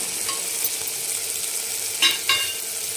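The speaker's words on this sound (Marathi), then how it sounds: "हे जे आपण वांगे फ्राय करून घेतले होते हे वांगे टाकून घेणार आहे" Fried eggplant is stirred into softened tomatoes in a pan, giving a steady close sizzle with a couple of brief scraping stirs near the end and no voice.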